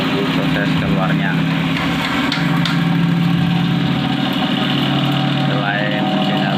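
A cotton candy machine spins sugar with a little cooking oil added, giving a steady, close mechanical motor hum that runs throughout while people talk over it.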